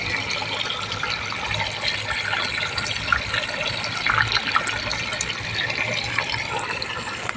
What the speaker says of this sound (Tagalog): May pumapasok na fresh water